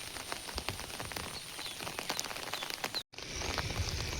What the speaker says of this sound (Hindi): Varsha देखिपे zip zip zip zip पकाउछ।